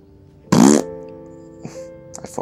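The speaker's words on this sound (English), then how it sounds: "He farted." A game character in the video game Heavy Rain lets out a single loud, brassy fart lasting about a quarter second, followed by quiet room tone with a few faint clicks.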